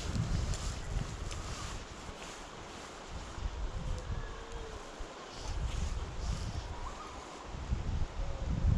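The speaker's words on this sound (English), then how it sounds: "It's quite windy as well to make it awkward." Steady wind gusts buffet the microphone beside a river during dry fly fishing for wild brown trout, a broad rushing roar that swells and eases throughout with no voices.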